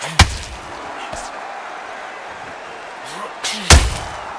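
A boxing punch lands in the video game Undisputed: two sharp, heavy thuds a few seconds apart over a low crowd murmur, the second one louder and booming.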